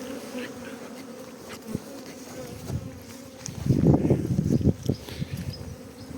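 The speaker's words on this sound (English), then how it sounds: "All other bees will hopefully fly back to home." A honey bee swarm caught from an oak tree buzzes densely around a closed hive box outdoors, a steady close hum that swells louder and busier midway, with no talking.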